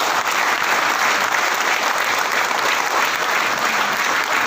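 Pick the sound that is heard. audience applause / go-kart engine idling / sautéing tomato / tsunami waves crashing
audience applause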